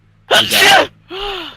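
A single loud, close sneeze bursts out sharply, followed by a short voiced exhale or vocal sound after a brief gap.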